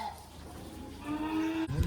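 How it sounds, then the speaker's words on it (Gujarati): Cattle at a cow shelter, where one animal gives a single low, drawn-out moo close by after a stretch of quieter barn background. "બધા ઢોર આવી ગયા હતા અને બધાએ નીણ ખાઈ લીધી છે"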